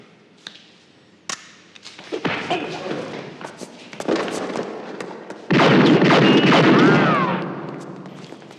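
Gunshots in a tense police standoff scene, several sharp loud cracks spread across the clip, followed by a long loud burst of noise and commotion.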